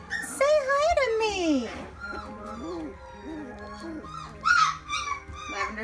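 Four-week-old Teddybear mini goldendoodle puppies whimper and whine in high, wavering, sliding cries, several overlapping close up, with short yips among them.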